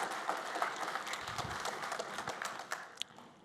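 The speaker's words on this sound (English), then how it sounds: "please applaud Mark" Audience applause at a tech conference talk on deploying PHP applications, moderate clapping with scattered individual claps standing out, fairly faint and distant.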